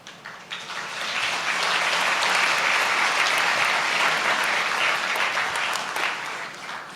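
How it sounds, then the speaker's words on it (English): Audience at a government launch of an energy transition plan breaks into sustained applause, a dense, loud wash of clapping that swells quickly, holds steady for several seconds and then tapers off. "They will only applaud when you announce the billions, not otherwise."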